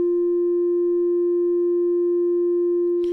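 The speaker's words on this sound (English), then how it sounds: "start with a single sine wave oscillator, also called a carrier, which has no harmonics." A pure sine wave tone from an Elektron Digitone FM synth holds steady and clean at constant loudness, then cuts off abruptly with a brief click at the end.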